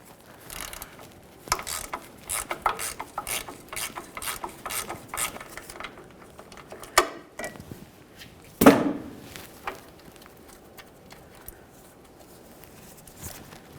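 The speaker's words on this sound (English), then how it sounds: "Use a 13mm on the mounting bolt." A 13mm ratchet wrench backs out the ground strap mounting bolt on a 1999-2006 Chevrolet Silverado 1500, giving repeated rapid pawl clicks in bursts, close and moderately loud, with a couple of sharper metallic knocks and no talking.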